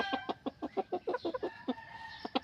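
Native chickens cluck close by in a rapid, uneven series of short throaty calls, loud and clear with no talking.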